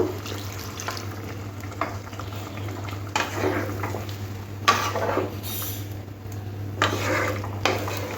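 Water simmering in a Bengali bata fish curry, with steady low bubbling under occasional clinks and scrapes of a spoon stirring in the pot, no voices.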